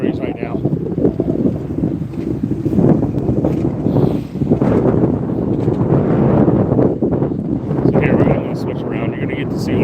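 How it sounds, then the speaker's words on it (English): Gusts of roughly 20 to 30 mph on a cold, 48-degree day buffet the microphone, making a loud, continuous rumbling roar that swells and eases without a break. "Now it's like a 20-mile-an-hour gust of wind every once in a while, maybe 30 mile an hour."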